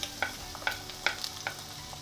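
Garlic stir-fried in hot oil in a pan, with quiet sizzling and a series of light scraping stirs of the spatula at regular intervals, no voices.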